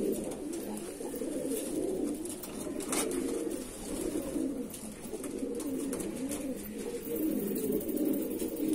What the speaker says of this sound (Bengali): এটা আমার খুব ফেভারিট জোড়ার পায়রা দেখাচ্ছি আপনাকে